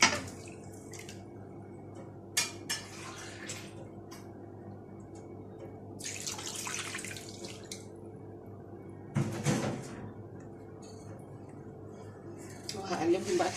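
Water poured from a mug around the edge of a frying pan over sugar, for a light syrup for red malban, makes a short splashy pour among faint drips and kitchen clicks.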